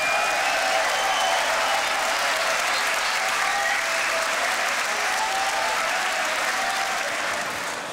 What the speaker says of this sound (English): One more round of applause for the final battle in the tag team,